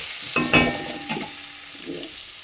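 Spices including Kashmiri chili, cumin powder and coriander powder hitting hot oil in a wok, with sharp bursts of sizzling and a few scraping stirs, then a softer fry.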